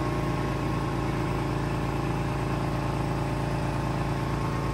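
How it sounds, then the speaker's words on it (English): An air compressor fitted with a triple manifold runs pneumatic Halloween props in a store display, a constant low rumbling drone with steady pulsing vibration, close and loud, no voices. "You got the compressor running with a triple on it to run all three of these."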